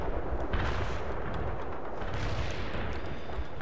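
Artillery fire in the real-time strategy game World in Conflict, a dense, continuous barrage of booming impacts and blasts rolling on without pause, loud and alone with no talk.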